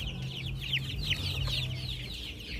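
Chicks peep in a steady overlapping stream after drinking water treated with a sulfur-based poultry powder, their chirps thin and close, with a low hum running underneath.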